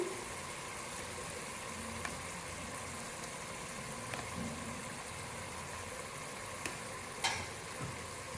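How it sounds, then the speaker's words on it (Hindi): Mutton kofta curry with added yogurt being stirred in a pan over low flame: a faint, even simmering hiss with a few soft scrapes and clicks of the spoon. "अब इसको अच्छी तरह से मिक्स करेंगे।"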